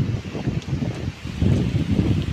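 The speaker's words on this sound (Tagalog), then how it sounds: "Yan, ang lakas ng hangin guys." Strong wind gusts roar through the trees of a nature park on an overcast day, a close, blustery rush in uneven surges with faint leaf rustling and no talking.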